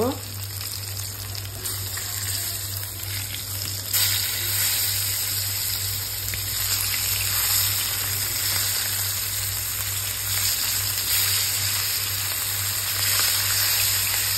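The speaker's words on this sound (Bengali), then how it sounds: "আমার তেলটা গরম হয়ে গেছে। আমি মাছটা দিয়ে দিলাম।" Fish frying in hot soybean oil, a loud continuous sizzle with a constant hiss and a steady low hum underneath that lasts the whole stretch without pause.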